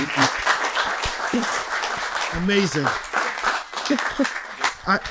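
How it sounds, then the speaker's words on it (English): A crowd at a business panel event claps for the panelists, steady applause running the whole time with voices calling out and talking over it. "Can we have a round of applause for our panelists, please, at this time?"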